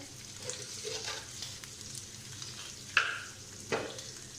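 Ginger garlic paste fries in a pan with a soft continuous sizzle, broken by a couple of sharper clinks or stirring knocks near the end; no talking.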